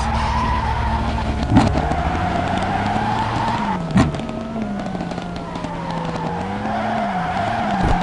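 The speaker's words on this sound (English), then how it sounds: "So quick tire warm up." Tires squeal and skid in a racing sim game during a quick tire warm-up on a high-horsepower car with short-tuned gears. A steady engine drone runs under wavering squeal tones for the whole stretch, with two sharp knocks along the way.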